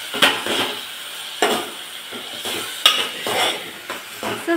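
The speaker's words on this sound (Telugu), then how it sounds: "సో వాటిని మిక్స్ చేసేసి" Cashews being stirred into carrot halwa in a pan, heard as repeated close scraping strokes of a spoon against the metal, four or five sweeps with soft sizzle between them, no talk.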